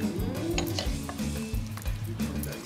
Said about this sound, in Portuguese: Vai misturar.